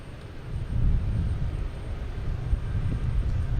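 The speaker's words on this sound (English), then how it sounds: "we have runway 9 clear for takeoff at Delta" A Delta airliner taking off from runway 9 at Boston Logan Airport, heard as a steady, distant low-frequency engine roar that holds throughout without talk.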